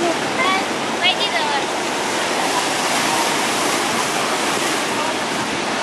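Mediterranean Sea surf breaking on a beach in Egypt, a steady broadband wash of churning waves close by, with faint voices and a brief chirp near the start.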